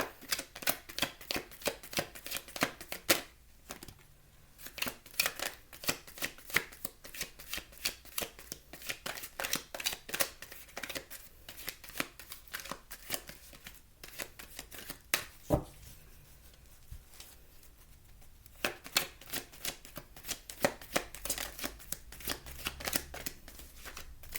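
Tarot cards riffled and shuffled again and again in quick bursts of crisp, rapid flutters, close and fairly quiet, with a short pause partway through.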